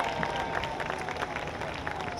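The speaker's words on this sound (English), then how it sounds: "So I want you to give her a round of applause." An audience applauds with dense, continuous clapping that fills the short clip evenly, crowd noise steady throughout.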